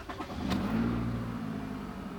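A 2.5 liter car engine cranks and catches, a short starter burst followed by a rising rev that settles into a steady idle, close by with no voices.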